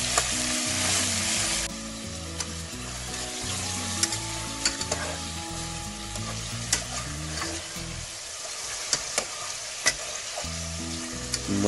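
A kilo of mutton fries in oil in a pan for a korma, giving a steady close sizzle with scattered utensil clicks and scrapes as it is stirred, over low background music.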